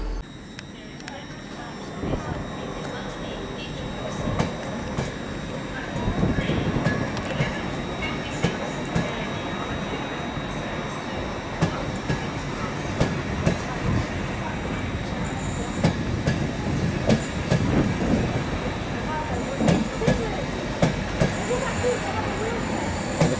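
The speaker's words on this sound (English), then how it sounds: "And the Class 91 is coming forward." A Class 91 electric train arriving at a station platform, a steady low rumble with rhythmic wheel clicks and occasional faint squeals building as it draws in, heard from on board.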